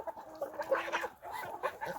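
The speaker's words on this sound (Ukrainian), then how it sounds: "Нові курочки, які приїхали, і півник ось" Newly arrived hens and a rooster cluck steadily in a farmyard, several close overlapping calls with no voices.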